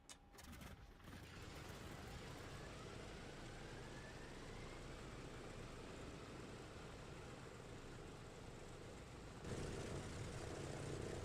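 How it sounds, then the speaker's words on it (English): Engine 3 of a Douglas DC-6B piston propeller airliner starts up in a flight simulator, with a steady broadband engine rumble and a faint rising whine that grows louder toward the end. "Starting engine 3."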